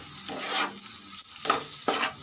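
Hissing oil sizzles steadily with a few louder crackling bursts as small fish fry in a pan, close up and with no voices.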